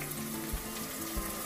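Ginger garlic paste frying with golden-browned onions for Rayalaseema khuska rice, a steady quiet sizzle with two soft low thumps, no talk.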